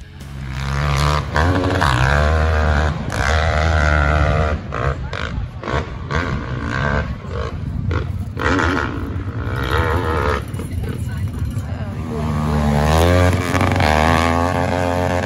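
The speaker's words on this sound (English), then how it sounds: "Here are some of the street bikes that were there." Street motorcycles gathered at a riders' event, with loud nearby engines revving and idling in overlapping, rising and falling bursts that continue throughout.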